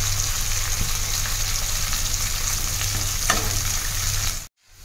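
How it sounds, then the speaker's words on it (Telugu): Ravva idli batter ingredients, with chana dal added, sizzle and fry in a pan while being stirred, giving a steady close crackle with occasional scraping stirs before cutting off abruptly. "ఒక 1 minute అలా ఫ్రై చేసేసుకోవాలి"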